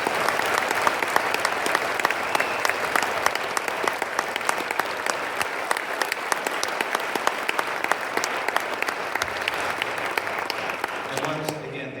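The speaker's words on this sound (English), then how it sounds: "can we give all of the students a round of applause?" Audience applause for honor band students at a school band concert, a steady dense roar of clapping hands that holds for about twelve seconds before starting to thin out at the end.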